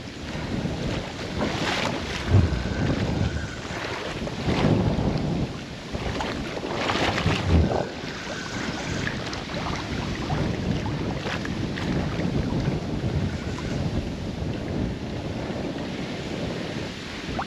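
Stormy wind blows across open water during carp fishing, a steady rushing roar with heavy gusts buffeting the microphone in several loud bursts, close and continuous.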